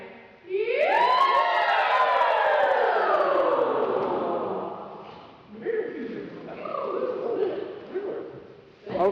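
A group of voices rises together in a loud, wavering siren imitation, sliding up and then slowly down, followed by scattered shouting and cheering.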